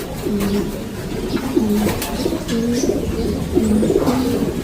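Pigeons coo repeatedly in low, rolling calls while being handled for vaccination before shipping to a new owner, several birds overlapping at close range over a steady background.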